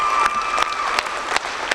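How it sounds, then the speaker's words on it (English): Crowd at a poetry slam quarter-final in Gambia clapping and cheering for the top five performers, dense steady applause with sharp clap bursts, fairly loud and close. "Can somebody give these wonderful people a round of applause?"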